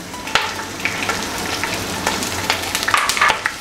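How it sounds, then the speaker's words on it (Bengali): Chopped onion frying in hot oil alongside bay leaves, a steady close crackling sizzle with scattered sharp pops and occasional stirring scrapes throughout. "তেলে পেঁয়াজটা একটু ভেজে এখন আমি"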